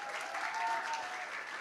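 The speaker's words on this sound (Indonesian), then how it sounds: "Sekali lagi tepuk tangan yang meriah." Congregation at a church worship service applauding in a steady, even wash of clapping, fairly quiet and continuous throughout.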